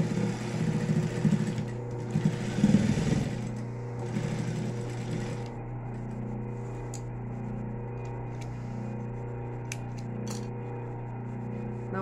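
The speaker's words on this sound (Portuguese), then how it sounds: "E vou passar essa costurinha aqui." Sewing machine stitching a seam on a drawstring backpack, a steady mechanical hum with a busier rattling run early on that eases into a smoother whir, and a few small clicks near the end.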